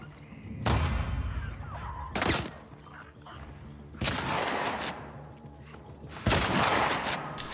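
Gunfire in The Last of Us Part II comes in four loud, heavy bursts spaced a couple of seconds apart, each with a booming tail, and quieter game ambience between them.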